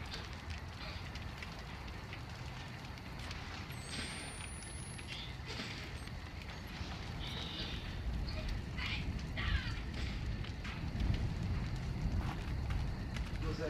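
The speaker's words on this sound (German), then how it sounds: "Setzt uns mal schön ans Lagerfeuer." Crackling campfire in the horror video game Outlast, a dense steady crackle with scattered sharp pops, moderately loud and growing slightly fuller toward the end, with no speech.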